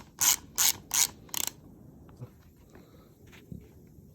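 Four quick, loud bursts of ratchet clicking as a bolt is loosened on a BMW GS1200 motorcycle, each close-up and sharp, followed by quieter scattered mechanical handling sounds.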